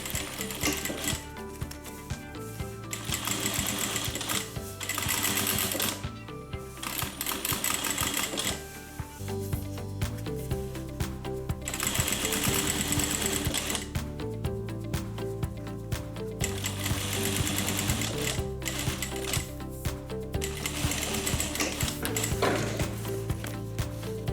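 A sewing machine top-stitching wallet fabric: loud, steady, rapid mechanical stitching that runs in long stretches, with short pauses between passes and no talking.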